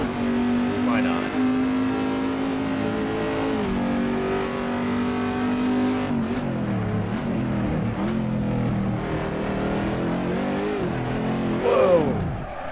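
A Corvette sports car mod in the Assetto Corsa racing game hums steadily, its engine tone rising and falling through gear changes and revs, then swerving into a spin near the end, while someone talks over it.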